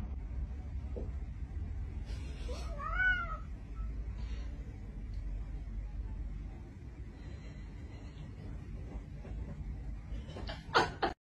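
A cat meows loudly and close in a short, wavering cry, then gives a sharper yowl near the end over steady background rumble.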